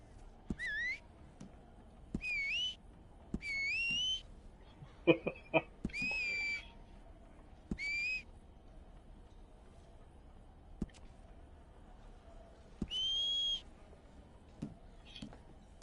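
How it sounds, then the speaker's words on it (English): Player's whistle in the video game Red Dead Online, several short rising whistled calls repeated with pauses between, faint and clear, with sparse clicks in between. "I don't really care about my whistle that much."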